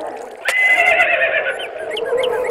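A dark, monstrous horse in a cave level of a video game lets out a loud, drawn-out whinny that starts with a sharp crack and wavers for a couple of seconds over a low background.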